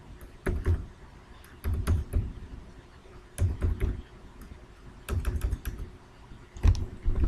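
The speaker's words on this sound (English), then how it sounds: "We're going to type in our PIN number." Someone types on a computer keyboard, entering a PIN in short bursts of close, quiet key clicks separated by pauses.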